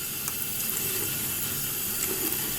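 Water running steadily while a makeup brush is scrubbed on a cleaning glove, a loud continuous hiss close by with small splashy bursts.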